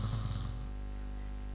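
A single short snore, made by a voice imitating the sound during a sermon, a brief rough rasp followed by a low steady room hum.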